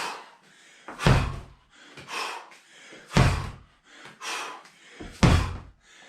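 A medicine ball thrown down in hammer slams during a home dryland strength circuit, landing in three heavy, booming thuds about two seconds apart, each followed by softer rustling and breathy effort between impacts.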